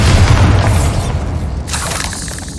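Bombarda blasting spell in Hogwarts Legacy, a single loud, deep boom that rolls out into a fading rumble with a bright crackling tail.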